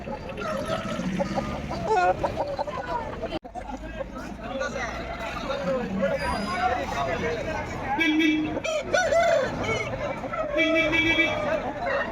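A rooster crows amid clucking fowl at a chicken market in Kilimukku while people chat over a noisy background, with a brief sharp knock partway through.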